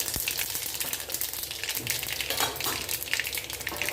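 Mustard, cumin and fennel seeds splutter in hot oil in a clay pot, producing a dense, continuous crackling sizzle with rapid pops, heard close up without any speech.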